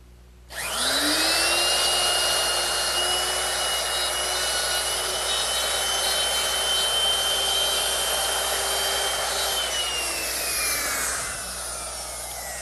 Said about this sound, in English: I simply slide it over to my layout line, clamp it down, and I'll just run the router through it